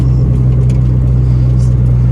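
Turbocharged D16 Honda Civic running with a cheap aftermarket exhaust gives a steady, loud, droning low rumble that holds constant throughout.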